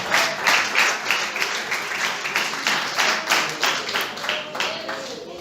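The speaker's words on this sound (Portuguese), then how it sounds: "Podemos assentar e adorar o Senhor com as palmas nesta noite." A church congregation claps in worship during an evening service, a steady rhythmic beat of hands, moderately loud and continuing without pause.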